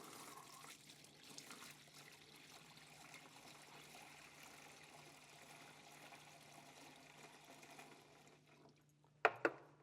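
Floor wax is poured from a container into the special bucket of a flat mop system for a VCT floor, making a steady, smooth, quiet liquid stream without glugging, followed by a couple of short knocks at the end.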